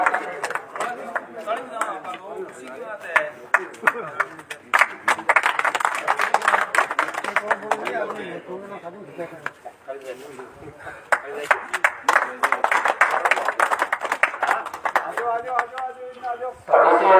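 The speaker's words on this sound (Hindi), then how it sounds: "तालियां बजाओ" A crowd claps at an outdoor election rally in Jhiloda village, with scattered sharp claps coming in bursts and someone speaking loudly over them throughout.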